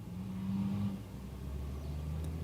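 Formula 1 cars run during 2022 qualifying at the Hungaroring, with faint, distant engine tones humming and shifting pitch as cars pass along the start-finish straight.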